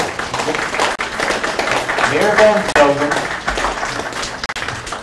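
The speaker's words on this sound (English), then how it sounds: "We got to give them a round of applause." An audience at a legislative listening session claps steadily for department heads and the school board, a dense, sustained patter running under a voice.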